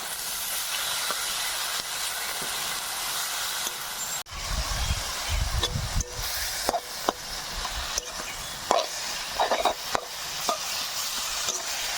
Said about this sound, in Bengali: শাকটা এবার ভেজে নেব।